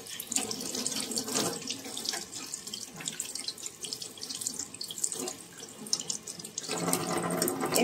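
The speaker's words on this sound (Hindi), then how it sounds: "देखिए मेरा फिश है, इसको अभी हम अच्छा से धो लेंगे।" Tap water runs steadily into a sink while fish is washed by hand, a continuous close splashing with shifting surges as the hands move under the stream.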